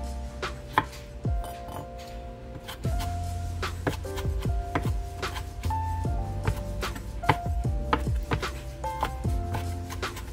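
A knife chops vegetables for fresh salsa on a cutting board, giving quick close rhythmic taps in bursts with short pauses between them.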